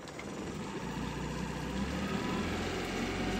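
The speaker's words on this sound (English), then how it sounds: "Very quiet little engine." Small outboard-type engine on a Dell Quay dory running quietly at idle, a steady low hum with faint mechanical ticking, continuous and even throughout with no voices.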